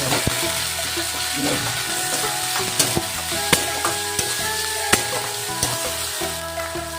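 Spices and green chillies fry in hot oil for a Bombay duck (lote fish) curry while being stirred. A loud steady sizzle is punctuated by sharp scrapes and taps of the spoon against the pan.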